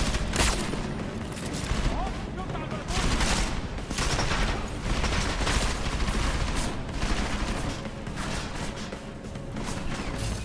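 Dense, continuous gunfire fills a firefight in the video game Deus Ex Mankind Divided, with overlapping shots, impacts and crashes throughout, loud and close, and voices shouting now and then beneath the noise.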